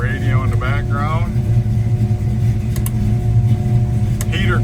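A 1972 Dodge Challenger, originally a 318 car and now fitted with a strong-running 340 V8, idles steadily close by with a low, even rumble, while a radio plays faintly in the background and someone talks over it.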